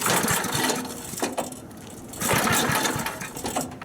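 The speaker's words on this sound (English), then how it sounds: "This thing fired up first pull." 1964 Snowbird S.263 snowmobile engine outdoors, firing up on the first pull of the recoil start and settling into a rapid, buzzy two-stroke idle with uneven surges, close and loud.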